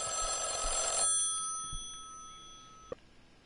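An old-style telephone bell rings loudly in the video game Mothered, then cuts off after about a second, leaving a faint electronic tone and a single click.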